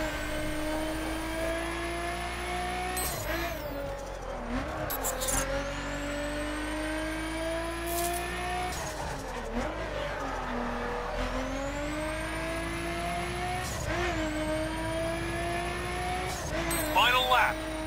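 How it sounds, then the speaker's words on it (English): GT3-class race car lapping a circuit in The Crew, engine revving steadily through gear changes with rising and falling pitch, occasional shifts and tire noise, loud and continuous with other cars nearby. "this is an example of a circuit race with a circuit car"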